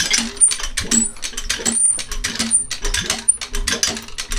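A hand pump worked while washing a motorcycle, giving a loud series of rhythmic clicking, ratcheting strokes with short squeaks, repeated about every half second, close up and without speech.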